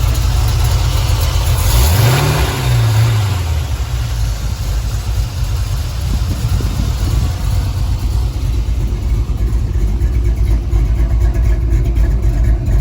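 A 1966 Chevy short bed pickup's engine runs steadily, a low rumbling idle with one brief rev swelling and dropping early on, then a settled continuous drone.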